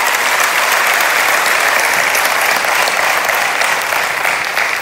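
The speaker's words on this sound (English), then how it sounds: "And that deserves a huge round of applause for the entire product team and for all of you fans." Loud, dense audience applause fills a large hall at the OnePlus 6 launch event in Mumbai, a steady roar of clapping sustained without a break.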